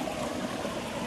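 Soft, steady rush of water flowing in a stream, a continuous gentle babble with no voices.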